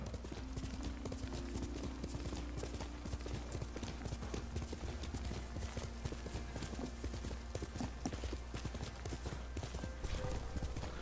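Horse hooves from the video game Ghost of Tsushima clop in a steady, continuous rhythm while riding, with a faint tonal background underneath; no one talks.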